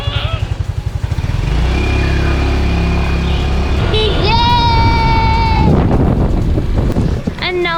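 A rented motorbike rides through Dalat, Vietnam, its engine idling then revving and buzzing under steady traffic noise, with horns and other vehicles nearby as people talk over it.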